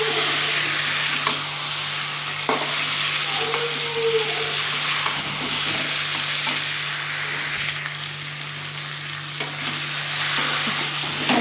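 Fried potatoes and duck eggs go into a curry masala sizzling hard in a pan, a loud, steady, close frying hiss with scattered crackles and scraping stirs.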